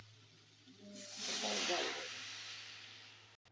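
Water poured into a hot pan of turmeric, chili and cumin powders sets off a loud burst of hissing sizzle that swells, then eases to a steady steam hiss over a low hum.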